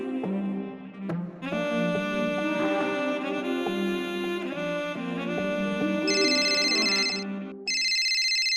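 A phone rings with an incoming video call, a loud, clear melodic ringtone with repeating tonal phrases and bright chime-like notes, close and alone, with no talk.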